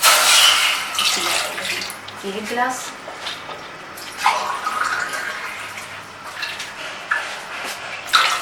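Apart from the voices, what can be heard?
pouring glasses of water onto tamarind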